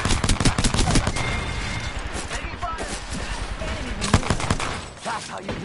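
Pistol shots in Apex Legends ring out in quick, loud succession at the start, with more shots a few seconds later amid game noise and speech.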